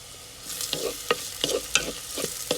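Onions sauté in coconut oil in a clay pot for a prawn roast, with quiet background sizzling under a rhythmic series of close spoon scrapes and taps, no talking.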